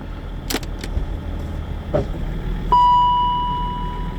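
Range Rover L322 idling and shifting back into high range: a low engine hum with a couple of light clicks, a firmer clunk, then a steady electronic chime tone.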